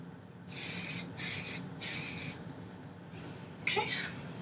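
Three quick hissing bursts from a hair product spray bottle, close by, followed by a fainter spritz, with a low murmuring background underneath.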